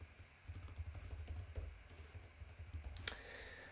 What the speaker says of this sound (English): So I'm just going to enter a password here.